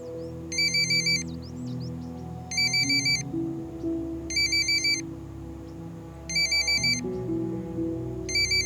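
A phone ringtone repeats in short musical bursts, five rings in a steady rhythm, over a soft background music bed, with no talking.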